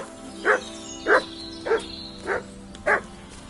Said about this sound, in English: Good dog, Mats.